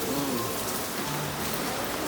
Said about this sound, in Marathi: हे पाऊस एकदम जोरदार चालू आहे